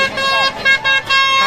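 A horn blares in loud, sustained tones amid the crowd at the large Mhasa village fair in Thane district, with a person talking close over it.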